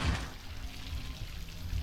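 A pool waterfall feature pours a steady stream of water into the pool, a continuous soft splashing rush heard alone at a low level.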